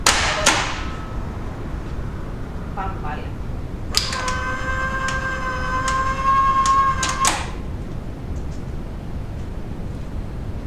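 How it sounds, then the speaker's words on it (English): Hyundai HGN25 air circuit breaker being tripped by hand during testing: sharp mechanical clacks and thuds, followed by a ringing metallic tone that sustains a few seconds before cutting off with another clunk. "At first, we trip the breaker manually."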